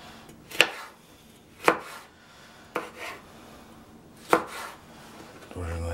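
Knife chopping vegetables into sticks on a board while preparing a Samarkand-style Uzbek liver dish with vegetables and bulgur; four sharp, separate cuts spaced about a second apart, fairly close, with no talking.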